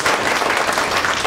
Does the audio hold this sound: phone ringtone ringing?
no